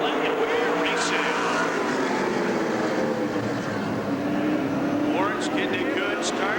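Stock cars roaring loudly together on the Rockford Speedway oval at a 1996 Saturday night race start, a dense sustained engine drone with rising pitch sweeps as the pack accelerates, crowd and announcer talk mixed underneath.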